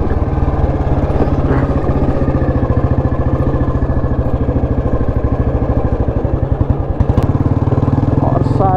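A 2004 Royal Enfield Bullet Standard motorcycle thumps along off-road with a steady, loud single-cylinder pulse close by, briefly rising near the end, with faint voices in the background.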